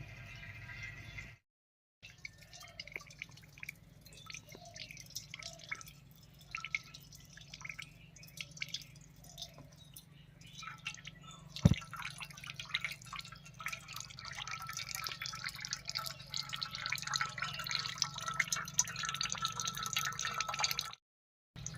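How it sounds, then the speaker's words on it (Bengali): Bitter water drips from hung palm fruit pulp into a bowl below, a quiet, steady series of single drops falling at irregular intervals over faint background noise. "এইভাবে দুই তিন ঘন্টা মতো ঝুলিয়ে রাখলে তেতো জলটা পুরো বেরিয়ে যাবে"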